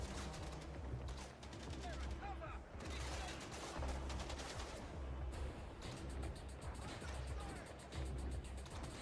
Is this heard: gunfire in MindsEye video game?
yes